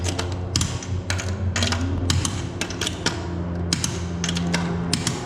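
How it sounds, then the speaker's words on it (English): Lug nuts on a Nissan 350Z race car are torqued to 85 foot-pounds, giving a series of mechanical ratcheting clicks and creaks with occasional dull thumps, close and fairly steady with no talking. "you gotta torque the lug nuts"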